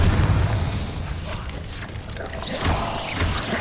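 Booming spell blasts from the Hogwarts Legacy video game, several heavy thuds and bursts in quick succession over continuous loud combat noise with crackling bright impacts.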